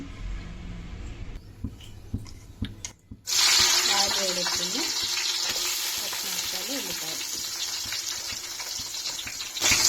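Ghee sizzles in a pot for Telangana-style bagara rice: a few quiet clicks and taps come first, then a loud, steady frying hiss takes over about three seconds in and continues to the end.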